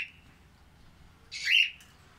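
Caged pet birds give a short, bright chirping call close by, standing out once against a quiet, low background.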